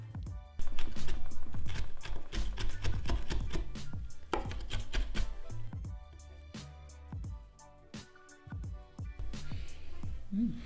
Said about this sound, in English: as you chop your cilantro